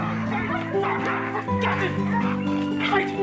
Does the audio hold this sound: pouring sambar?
no